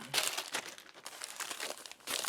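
An MRE ration pouch being torn open and handled, Beef Ravioli in Meat Sauce Menu 18 from a 2018 case: loud, close crinkling and ripping plastic in several bursts with brief pauses between.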